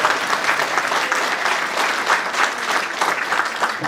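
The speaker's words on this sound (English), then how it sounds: "you can applaud if you want." An audience at an employee-of-the-year awards ceremony applauds a colleague, thick, even clapping from many hands that holds steady and fairly loud throughout, with no voices.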